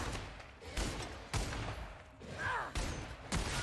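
Gunfire in The Outer Worlds on Xbox Series X, bursts of shots arriving in repeated waves with sharp onsets, a brief whooshing effect in the middle, and faint speech underneath.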